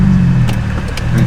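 A Mercedes SLK 350 with a loud aftermarket exhaust accelerating, giving a close, deep, steady engine rumble with a few brief higher bursts over it.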